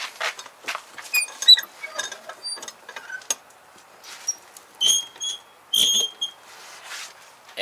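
The small rear awning of an Airstream trailer is rolled up by hand, giving a run of light creaks, clicks and squeaky metallic ratcheting in short irregular bursts, close and fairly quiet.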